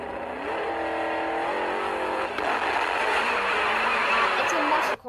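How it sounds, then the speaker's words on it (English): A Dodge Charger RT muscle car with a blower roars and revs, its pitch sweeping up and then holding a loud, sustained snarl for several seconds before it cuts off abruptly. Voices may be faintly mixed underneath. "It's a Dodge Charger RT."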